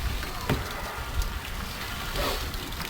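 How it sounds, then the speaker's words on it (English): A water fed pole rinses a window, giving a steady hissing spray of water with faint patters and splashes against the glass throughout. "So I'm going to give it an extra rinse up there."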